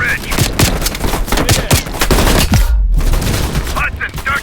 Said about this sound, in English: Watch it, heavy MG on the ridge.